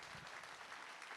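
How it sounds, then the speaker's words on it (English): Applause from a conference audience in Tokyo after two speakers, heard as a dense, faint, even wash of clapping. "please give them a round of applause"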